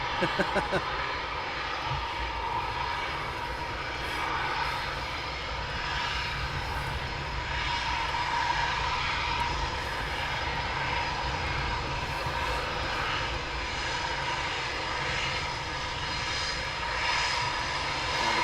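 Eurofighter Typhoon jets taxi at RAF Coningsby, giving a loud, sustained, steady jet roar with a high whine that holds nearly unchanged throughout and is heard alone.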